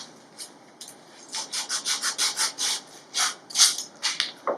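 Sandpaper is rubbed by hand along a wooden drawer bottom slat in a rapid series of close, rhythmic scratchy strokes, each swelling and fading in turn.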